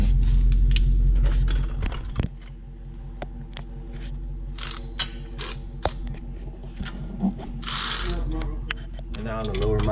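A 14mm bolt on the lower mount of a Rough Country 2.5-inch lift kit on a Jeep Wrangler being tightened with a ratchet: repeated short clicking pawl strokes and metallic clanks, fairly close, with faint background voices.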